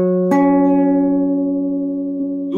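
A kite guitar rings out an up fifth, two plucked strings sustaining together with a slightly beating, off-perfect quality, close and steady with no talk, a faint new pluck near the end.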